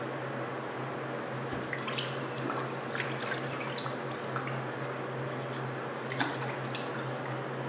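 Water trickles and drips steadily close by, a continuous splashing flow with small irregular spatters.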